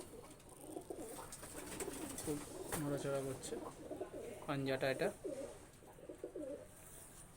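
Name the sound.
pigeons cooing while being handled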